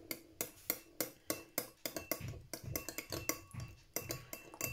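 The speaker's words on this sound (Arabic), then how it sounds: "نخلطو مليح" A spoon clinks and scrapes against a bowl while stirring an olive oil marinade for chicken, a steady run of sharp metallic taps followed by quicker, softer stirring strokes, close and without speech.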